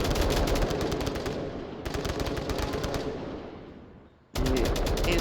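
Automatic gunfire in the VR shooter Onward during a competitive match, with rapid bursts of machine-gun-like shots that stop and restart, briefly falling quiet before a final loud burst.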